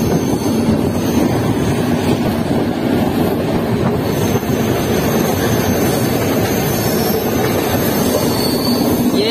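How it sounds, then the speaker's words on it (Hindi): Purvia Express passenger train, running from Anand Vihar to Saharsa, approaches on the rails at a curve, giving a steady loud rumble and roar of wheels that holds throughout with no talk. "सामने से ट्रेन आ रही है आनंद विहार से चल के सहरसा को जाने वाली"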